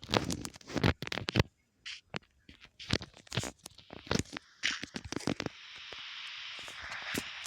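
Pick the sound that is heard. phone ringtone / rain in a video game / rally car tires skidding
rain in a video game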